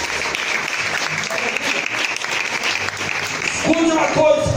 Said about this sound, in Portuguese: Quem pode aplaudir o nome dele mais uma vez?